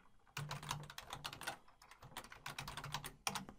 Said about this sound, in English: In the address bar, type in your website followed by /cPanel.